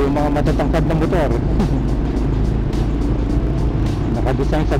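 Tall motorbikes riding through a flooded road, an engine rumble with brief revs and passing whooshes over low water noise, while someone talks throughout.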